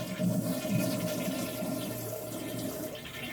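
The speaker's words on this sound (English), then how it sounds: "And what we do is flush the toilet." A toilet flushes with its water supply shut off under the tank, a loud rushing, gurgling drain that holds steady then begins to fade without any refill sound.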